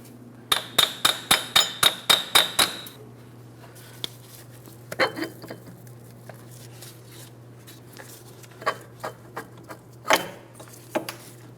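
Rusty front axle pressed and pried out of a corroded wheel bearing on a 2004-2008 Pontiac Grand Prix steering knuckle, opening with a fast run of sharp metallic clanks, then scattered knocks and clinks over a low hum.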